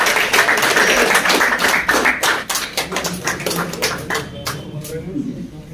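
Applause at an award ceremony for a car cup run by a Kashmir pigeon sports club, with dense crowd clapping that slowly thins and fades, a voice over it at first.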